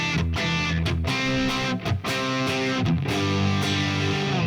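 Electric guitar through the TONEX sweet picking amp model, a mildly distorted tone with picked chords and notes separated by brief muted gaps, played steadily and close with no talking.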